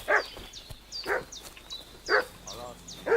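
A dog barks in a video game, a run of short, sharp barks a few tenths of a second apart, fairly loud and close, with a brief whine between them.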